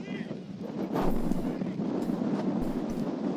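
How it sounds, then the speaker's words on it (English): Wind blowing hard on a wet, windy day at an outdoor American football game, a continuous rough buffeting rush with gusty swells across the whole stretch. "it looks like a wet and windy day"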